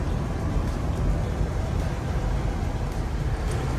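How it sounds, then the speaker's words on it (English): Inside a new Ford Bronco with a V6 engine, a steady broadband rush of wind through a window fills the cabin while driving, constant and fairly loud with no talk. "You get the wind noise out of this window."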